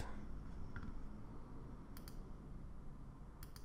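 Computer keyboard keys tapped on a desk: faint, sparse clicks and a few quick double taps over quiet room noise, close by and alone.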